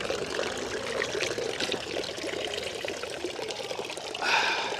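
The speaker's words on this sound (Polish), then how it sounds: "Czysta, źródlana woda z miejskiej fontanny, zdatna do picia." Clean spring water pouring steadily from a town fountain in Switzerland, a continuous close splashing trickle with no voices.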